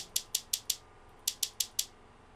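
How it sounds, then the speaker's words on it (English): A shaker sample in a music beat plays two bursts of four crisp, evenly spaced hissing shakes each, with a short gap between the bursts. Bright and fairly quiet, with no other sounds. "This is like a shaker, another kind of shaker,"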